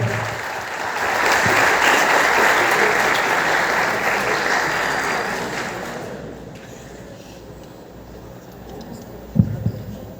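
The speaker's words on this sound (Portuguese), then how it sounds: "um salve de palmas para ele" Applause from a university audience welcoming a software engineering student, dense clapping swelling then fading out over several seconds, followed by quiet room tone and a single knock.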